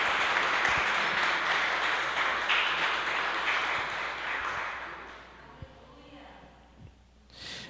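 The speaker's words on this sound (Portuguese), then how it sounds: "você pode aplaudir mais forte" A church congregation at a Sunday celebration service applauds loudly, the dense clapping gradually thinning and fading out over several seconds, with a few scattered claps at the end.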